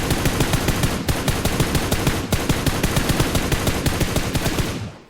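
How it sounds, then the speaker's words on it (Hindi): Rapid, continuous automatic gunfire in PUBG with dense bursts of shots, loud and close, running almost the whole time before cutting off at the end. "मैं बहुत सारी गोलियां उन पे बर्बाद करता हूँ"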